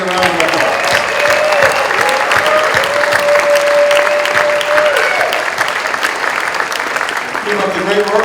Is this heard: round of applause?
yes